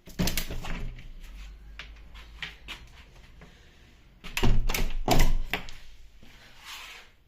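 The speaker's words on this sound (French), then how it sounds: "je vais vous ouvrir la fenêtre de la porte, comme ça vous allez voir comment ça rend" Window in a home door being opened by hand, with scattered close clicks, knocks and rattles of the latch and frame, then a louder burst of bangs and creaks as it swings open.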